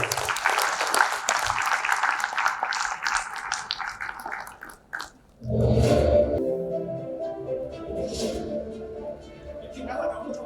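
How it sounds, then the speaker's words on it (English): An audience at an architecture and interiors design debate in Guwahati gives a round of applause, a broad clapping wash lasting about five seconds before fading out as music and talk take over. "can I request the lovely audience for a good round of applause, please?"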